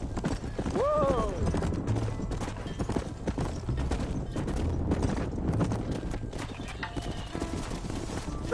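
Horse hooves clip-clop in the Red Dead Redemption video game, a steady rhythmic plodding mixed with game ambience and a brief whinny-like call early on, with voices talking over it.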